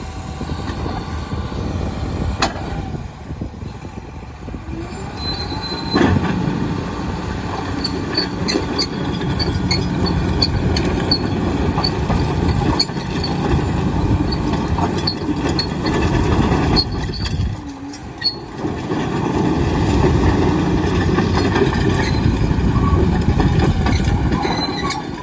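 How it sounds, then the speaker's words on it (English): A John Deere 850K LT bulldozer with a 4-way blade works its rear rippers, its diesel engine droning loud and steady throughout, with a brief dip near the end before the heavy rumble resumes. "There go the rear rippers."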